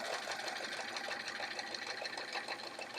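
A sewing machine basting the edge of fabric pockets for a travel art folio, its needle running in a steady fast chatter at close range, continuous and alone.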